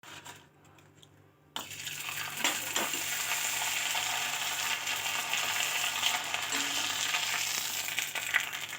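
Drumstick leaf sago vadam fries in hot oil, a quiet lead-in giving way to a dense, steady bubbling sizzle that holds for several seconds.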